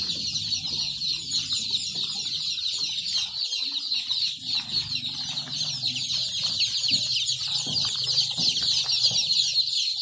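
A crowd of chicks and ducklings at a poultry seller's cheeps continuously in shrill, overlapping chirps, with occasional lower clucks beneath, steady and close for the whole stretch.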